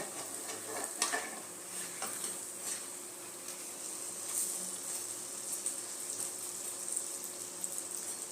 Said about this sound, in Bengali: হালকা একটু লাল লাল করে ভেজে নেব